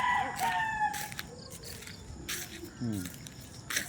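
Chickens crow several times in short bright calls, some overlapping, with faint insect chirps behind, while a person talks in between.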